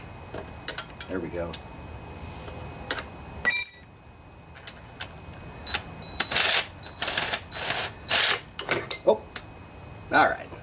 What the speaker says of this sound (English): going to need to use a uh, closed box end wrench